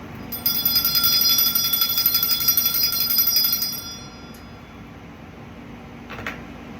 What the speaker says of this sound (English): So let's tap this bell. It's going to be loud, so turn down your volume,